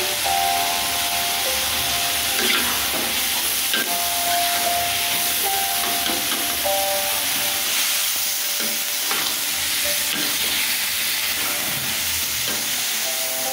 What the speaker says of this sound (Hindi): भून लेते हैं शिमला मिर्च हमारी और पत्ता गोभी और क्या बोलते हैं मटर है